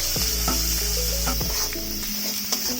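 Luitkaran sizzles as it fries in a kadhai (wok) for a Tripura tribal elengcha dish, with a steady hiss broken by repeated scraping stirs of a utensil against the pan, close and unaccompanied by speech.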